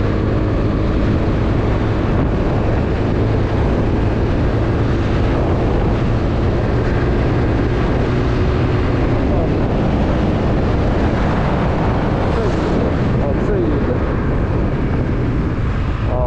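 A 2024 Honda Stylo 160 ABS motor scooter engine roars loudly and steadily as it accelerates, with heavy wind buffeting the microphone throughout.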